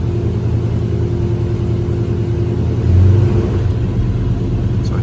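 Square body truck engine accelerating while driving, a steady low mid-pitched engine drone and road rumble that swells briefly louder near the middle, then settles, heard alone from inside the cab.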